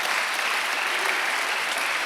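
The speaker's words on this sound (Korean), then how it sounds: "다시 한번 박수 치면 되십니다." A Korean church congregation applauds during a Sunday worship sermon, a steady and fairly loud wash of many hands clapping throughout with no talking.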